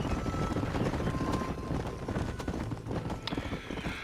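A Kentucky Saddler horse gallops in Red Dead Redemption, its hooves pounding in a fast steady clip-clop rhythm close and loud, with no talking.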